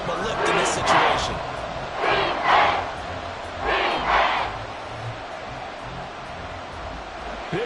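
A stadium crowd roars in an American football video game, a full, steady din that swells in three or four loud surges, with a New Orleans crowd on its feet for a third-and-seven play.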